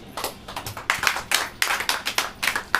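Church congregation clapping hands in a steady rhythmic beat during a Hindi sermon, loud and close, with no speech over it.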